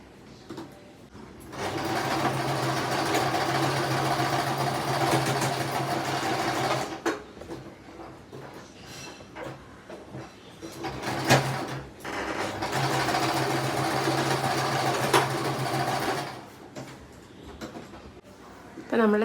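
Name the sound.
sewing machine stitching the open end of a fabric scrunchie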